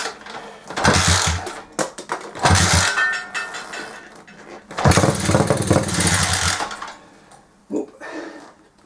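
Honda CG125 cafe racer motorcycle sputters in several short bursts as it tries to start, revving briefly with throttle between quieter pauses, close by.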